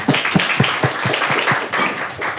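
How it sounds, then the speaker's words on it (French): Scattered clapping from a small audience at a talk on the psychology of villains, a few distinct claps ringing out irregularly in a room, fairly close and moderately loud. "Vous pouvez l'applaudir."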